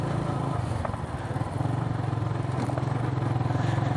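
A modified Yamaha Vixion motorcycle fitted with R25 parts rides a badly damaged village road, its engine droning steadily close by with rhythmic pulsing and some rattling and clatter, and no voices.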